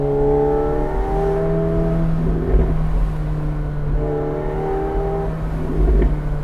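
A McLaren 750S Spider accelerates hard, its engine note climbing in rising sweeps, easing briefly, then climbing again, loud and close from inside the car.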